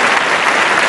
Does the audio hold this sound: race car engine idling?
no